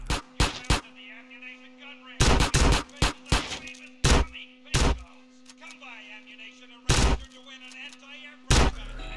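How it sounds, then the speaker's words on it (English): Gunfire at a shooting range in GTA San Andreas: loud, close bursts of rapid shots in short clusters separated by pauses, over a steady background game tone. "it was time to level up the weapon skills and complete the ammunition shooting range challenge"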